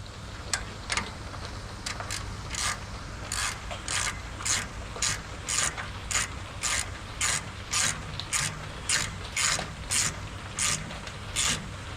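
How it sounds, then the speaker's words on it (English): A ratchet tool tightens a brake line fitting on a 1989 Chevy, giving repeated bursts of rapid clicking in an uneven rhythm with short pauses between strokes, close and clear with no talk. "I'm gonna get my tool so I can tighten it up"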